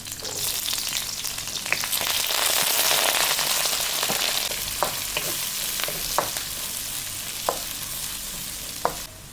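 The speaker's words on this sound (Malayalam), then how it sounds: "ഇനി ഇതിലേക്ക് നമുക്ക് ആ ഉള്ളിയും കറിവേപ്പിലയൊക്കെ ഒന്ന് ഇട്ട് കൊടുക്കാം" Sliced onions and curry leaves fry in hot oil in a pan for a beef dish, producing a loud, dense, steady sizzle with occasional sharp crackles and pops close by.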